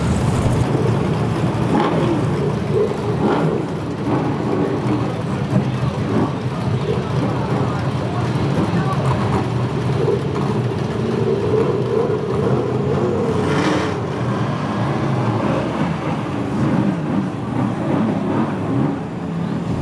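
BriSCA Formula One V8 stock car engines revving hard at a stock car oval before the green flag, a loud, dense, continuous roar with a crowd and a voice audible beneath it.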